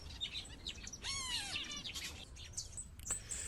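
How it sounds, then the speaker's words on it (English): Finches in a large outdoor aviary, several quick chirps and a short burst of bright rising tweets over faint background rustle, fairly near with no talking. "Large outdoor finch aviary."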